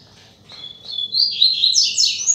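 A female coleiro, or double-collared seedeater, gives a run of thin, high rising chirps up close, starting faint and growing stronger over a couple of seconds against quiet background.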